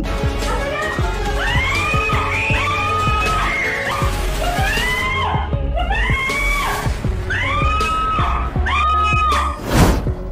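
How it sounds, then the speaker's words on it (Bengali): A woman screams out of a window after fighting off burglars, with repeated loud, rising and falling cries over a steady low hum. "জানালা দিয়ে বাইরে চিৎকার করতে থাকেন"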